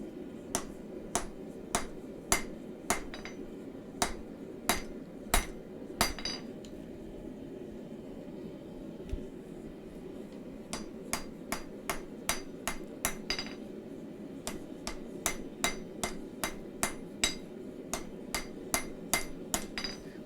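Hammer strikes flattening metal while forging a knife, sharp ringing blows in rapid irregular bursts, a steady run of hits, a pause, then more quick strikes, close and clear over a low background hum.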